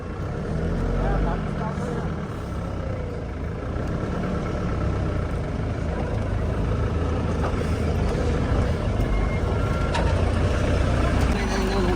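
A vehicle engine with no water in its radiator runs loudly and steadily throughout, a dense rumbling drone with people talking over it.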